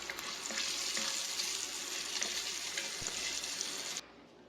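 Bacon frying for clam chowder gives a steady, dense sizzle with scattered crackles and pops, close by and fairly loud, running continuously before cutting off abruptly near the end.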